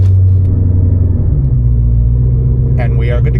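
A Mopar car engine fitted with an IGLA anti-theft system starts and settles into a loud, steady low idle rumble heard up close.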